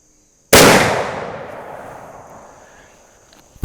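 A muzzleloader rifle fires one sharp, loud shot over a chronograph outdoors, the blast ringing off into a long fading tail, with a faint click at the end.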